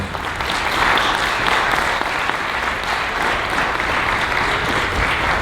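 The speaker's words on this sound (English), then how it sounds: "Give you a round of applause for Mychal Denzel Smith." An audience applauds steadily throughout, a dense, sustained wash of clapping from many hands with no pauses.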